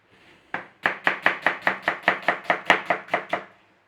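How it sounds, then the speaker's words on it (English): A knife slices onions on a chopping board in a quick, even run of about fourteen crisp thuds, close and clear with no voices. "just slice your onions"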